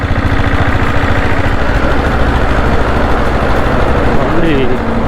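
Steady, loud idle of a Diesel Bullet 7.5HP motorcycle, nicknamed the Black Monster, with a deep, even thumping beat close by and continuous throughout.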